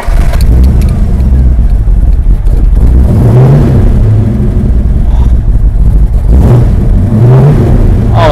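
A 1971 Plymouth Hemicuda convertible's Hemi engine rumbles loud and close, with deep throaty revs swelling and easing several times over a steady heavy idle.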